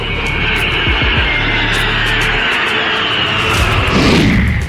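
Indian Air Force aircraft roar overhead during the Tarang Shakti 2024 air exercise, a loud continuous engine drone that swells and shifts in pitch as a jet passes close by.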